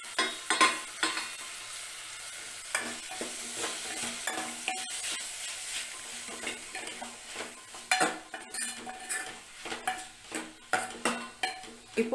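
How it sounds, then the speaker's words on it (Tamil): Tomatoes stirred into sautéed onion and garlic in a pan for garlic sambar, with steady sizzling and repeated utensil scrapes and clinks, close and moderately loud, no talking. "இப்போது இந்த தக்காளி கொஞ்சம் நல்லா வதங்குற வரைக்கும் வதக்கணும்"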